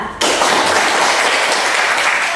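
Classroom audience applauding together after a group presentation in a teacher-training lesson; dense, steady clapping starts abruptly after a brief quiet moment and continues loudly to the end.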